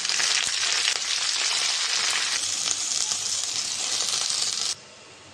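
Greens dropped onto fried onions in a hot pan, a loud, steady close sizzle that holds throughout and cuts off sharply near the end, with no talking.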